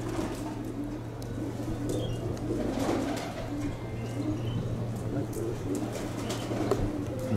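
Racing pigeons coo softly in a continuous murmur outdoors, with a steady low hum and occasional faint chirps or wing flutters in the background.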